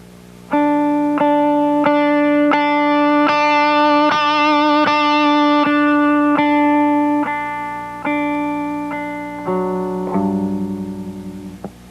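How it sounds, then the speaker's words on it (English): Electric guitar played through the built-in overdrive of a Dumble amp, a run of sustained, harmonically rich notes and chords moving from fairly clean to more distorted, loud and close with reverb tails and no talking. "I have an overdrive system that is built into my Dumble amp, and I'll show you the difference in that tone"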